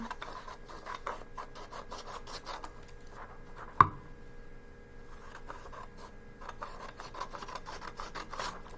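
A pink paper page is trimmed for an equations notebook, giving soft rasping, rubbing cuts with scissors or paper near the microphone, quiet overall, with one sharp click partway through and no talk.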